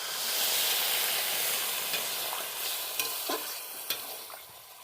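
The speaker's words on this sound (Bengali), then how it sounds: "হলুদটা দিয়ে আমি একটু সামান্য জল দিয়ে দেবো।" Onions and turmeric stirred in a frying pan after a splash of water goes in, for an aubergine curry: loud continuous sizzling that slowly eases, broken by several sharp scraping clicks of the utensil, with no voice.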